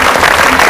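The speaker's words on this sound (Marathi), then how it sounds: "एकदा जोरदार टाळ्या वहिनींसाठी." A short, loud burst of audience applause, dense and close, with many hands clapping at once.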